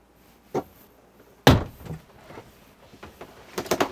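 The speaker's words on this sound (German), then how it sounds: "So würde die Tür zugehen." The door of a Pössl Summit Prime 540 motorhome swings shut with a solid thunk, preceded by a faint click and followed by a few smaller rattles and knocks, nearby and with no talk.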